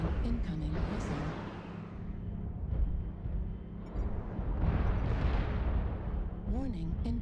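Incoming missile explosions in the video game MechWarrior Online, with a Locust 1M mech in combat: continuous loud booming rumbles and bursts along with a steady mechanical drone, and synthetic warning voices and tones in between.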